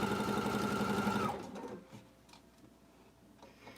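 A sewing machine stitches through thick quilt layers in a steady rapid whir that stops after about a second, leaving faint handling clicks and rustling of the fabric.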